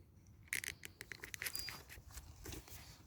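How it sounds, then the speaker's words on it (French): Packaging for a JRC Rova Peak 2 Man Camo bivvy rustles and scrapes in quick, close, irregular bursts as a parcel is opened, with no talking. "On va déballer ça ensemble"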